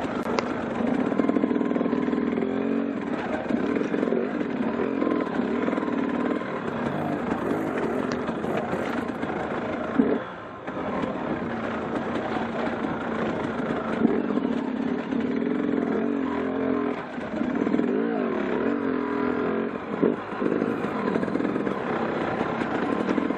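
A dirt bike engine revs hard on a Four Mile Buena Vista single-track trail, a loud, near, continuous drone with throttle surges and a brief dip around the middle.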